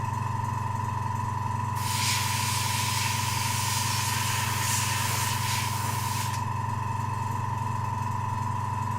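An airbrush sprays paint onto a model, a soft steady hiss lasting several seconds over a constant low mechanical hum, likely the compressor, close and continuous with no talking.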